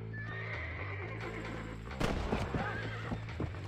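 Horse whinnying and hooves clip-clopping in Red Dead Redemption, a loud neigh with steady hoofbeats over game background noise, and a sharp burst of activity midway.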